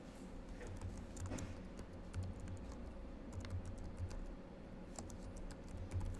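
Computer keyboard typing in a college setting, quiet steady clicking of keys in irregular bursts throughout, close and faint with no talk.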